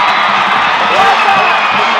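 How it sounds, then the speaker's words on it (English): High school football crowd at a 2009 AAA state semifinal, Gainesville against Flowery Branch, erupting after a late go-ahead touchdown: loud, continuous roaring cheers, whoops and yells filling the stands, dense and unbroken. "Just listen one more time to this crowd. They go absolutely nuts after the go-ahead touchdown with 18 seconds left in the ballgame."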